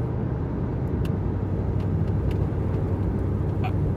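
A truck fitted with a Walker Quiet Flow muffler drives along, giving a steady low rumbling exhaust drone that stays even and subdued throughout, close and continuous with no voices.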